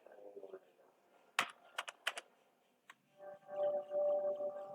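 Typing on a computer keyboard while entering a document title: a few sharp key clicks and taps in a short cluster, mixed with a murmuring voice before and after, fairly quiet.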